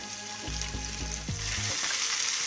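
Onions, ginger and green chili frying in a pan, a close steady sizzle with a few low stirring thumps in the first half.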